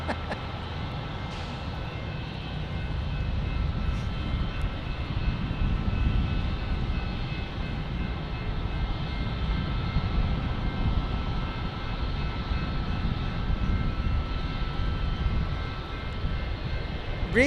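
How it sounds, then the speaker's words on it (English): A Boeing 777-300 with GE90 engines gives off a continuous jet roar, moderately loud and steady, swelling gently in the middle before easing slightly, with no voices. "There it is, the 777-300 with the big GE90s."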